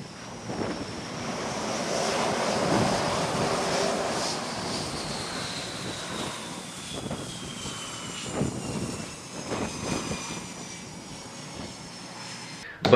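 A jet aircraft lands on a Navy ship's flight deck, its engine roar a loud sustained rush with a whining tone sweeping down, heavy wind noise over the deck throughout.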